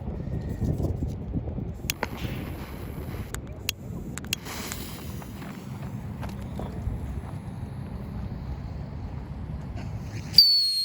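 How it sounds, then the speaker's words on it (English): A Chinese-made whistling moon traveler firework shrieks into a sharp, high whistle only in the last half second, after a stretch of steady outdoor wind and rumbling background noise. "let's go ahead and light the whistling moon traveler"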